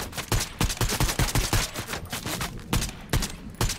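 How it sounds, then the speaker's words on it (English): Gunfire in Fortnite during a Ranked Duos Zero Build match: rapid, close bursts of automatic shots in a dense, uneven rhythm, loud and continuous throughout with no talking. "Oh, I'm getting shot at."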